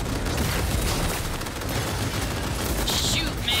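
A continuous roar of heavy gunfire and blasts from the video game Cyberpunk 2077 Phantom Liberty fills every moment, loud and dense, with a voice faintly buried beneath the barrage.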